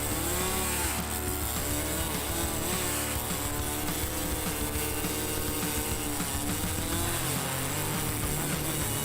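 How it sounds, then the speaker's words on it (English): A chainsaw cuts through a dense tree trunk, its engine snarling loudly and continuously for several seconds with a rough, buzzing roar that wavers as it bites into the wood. "encounters dense wood, but the chainsaw continues working without hesitation"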